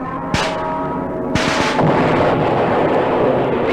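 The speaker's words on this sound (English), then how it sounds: "I'll toss a grenade over." Grenade explosion in a wartime radio drama, two sharp booming blasts close together, the second rolling into a long rumbling roar that lingers to the end.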